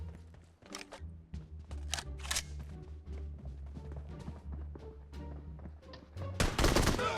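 Gunfire in PUBG Mobile, a string of sharp shots in quick succession over a low steady hum, ending in a louder, denser burst.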